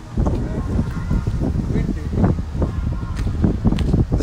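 Steady wind roaring and buffeting close to the microphone beside a spinning wind turbine, with gusty rumbles and brief rustles throughout.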